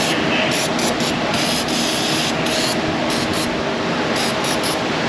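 Brake cleaner sprayed from an aerosol can in an auto repair shop, a series of short, loud hissing bursts of varying length over a steady background noise.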